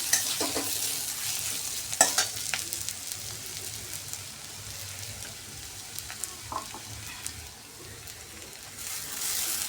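Tomato puree going into a frying pan for a dhaba-style veg Maratha kofta curry, with a quiet, steady sizzle broken by a few sharp scraping stirs near the start and around the middle.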